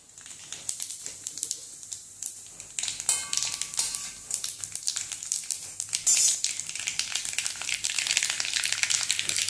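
Dried red chilies, mustard seeds and fennel seeds hit about two tablespoons of hot oil for a chembu thandu (taro stalk) dish, giving a close, bright crackling sizzle with rapid irregular pops that builds in intensity.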